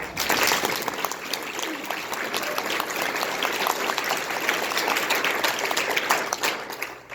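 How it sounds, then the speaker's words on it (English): Sustained applause from an audience at a keynote, a dense, even wash of many hands clapping that holds steady throughout without voices on top. "So if we could give a round of applause for"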